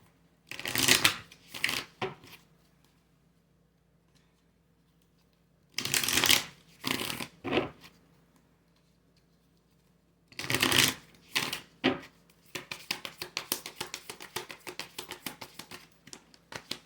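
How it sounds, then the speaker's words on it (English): Kali oracle cards being shuffled up close in repeated bursts of riffling and flicking separated by quiet pauses, ending with a longer run of rapid light slaps. "So I'm going to pull some Kali cards."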